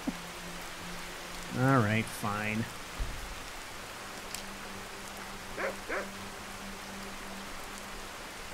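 Steady rain falls in Skyrim as a soft, even hiss throughout, with a dog-like yelp partway through and someone speaking briefly over it.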